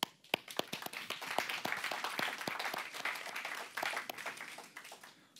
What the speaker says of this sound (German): das ist nochmal euer großer Applaus